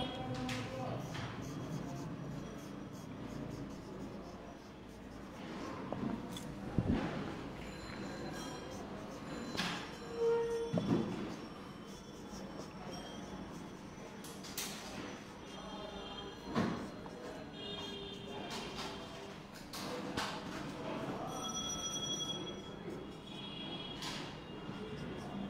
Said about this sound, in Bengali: আমি প্রতীকগুলো একটু লিখলাম।